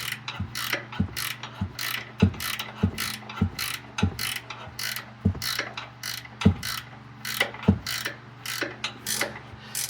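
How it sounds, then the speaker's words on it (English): Hand ratchet clicking steadily as it tightens a bolt on a Ford Expedition shock absorber, a regular series of sharp mechanical clicks at close range with no talking. "I'm going to go ahead and tighten it all the way down."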